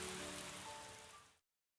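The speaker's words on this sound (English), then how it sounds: "Mr. Solon begins to talk amidst the sound of rain" Steady rain falling in the video game Cafe Enchante: a dense, even hiss with faint tonal music threads, fairly quiet, ending abruptly into silence.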